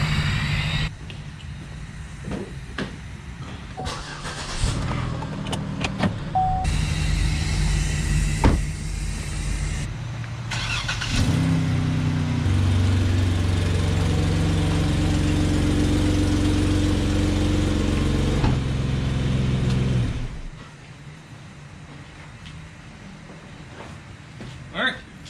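Car being driven out and moved at a home garage: an engine starts and runs at a steady idle and low revs for about ten seconds before cutting off, with someone talking over it.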